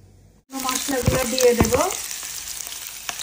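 After a brief quiet start, dried chilies, bay leaf, onion and garlic hit hot oil with a sudden loud sizzle and crackle. It settles into a steady close frying hiss with a few spatula knocks.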